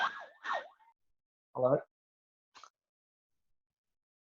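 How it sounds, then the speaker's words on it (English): An emergency vehicle siren outside gives two quick rising-and-falling wails, fairly faint and brief. A single voice then speaks, with silence between. "That was a siren."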